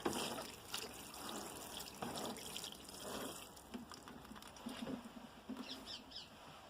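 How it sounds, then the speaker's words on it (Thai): Water splashes steadily from a watering can or hose onto freshly sown bok choy seeds in soil, a continuous gentle pouring with a few faint bird calls in the background. "แล้วก็รดน้ำให้ชุ่มค่ะ"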